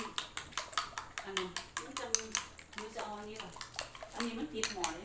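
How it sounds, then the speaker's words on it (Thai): A frying pan and metal utensils are handled close by in a home kitchen, with a rapid series of clanks, scrapes and knocks running throughout while people talk over them. "เอากระทะมาให้นะเมีย"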